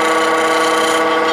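A tool lightly cleans ridges off a spinning wooden pen blank on a wood lathe, making a loud, steady, close rubbing hiss with no pauses.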